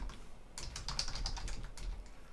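Rapid keystrokes clatter on a computer keyboard while a formula is entered in astrophotography processing software, a steady close run of clicks and taps with no voices.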